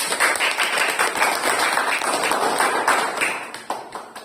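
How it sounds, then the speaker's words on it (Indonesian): A classroom audience claps for a student group's presentation, dense steady hand clapping from many people close by that thins out toward the end. "tepuk tangan untuk penampilan dari kelompok 4"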